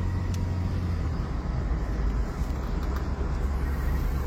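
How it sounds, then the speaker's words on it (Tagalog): Large trucks and cars rumble past on a busy mountain-peninsula highway, a steady, loud, close traffic drone with no talking. "Ang lalaki ng mga truck dito."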